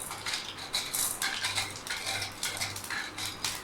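Mustard seeds and urad dal tempering in a spoonful of hot oil in a pan, a steady close crackle of sharp popping and spitting bursts throughout.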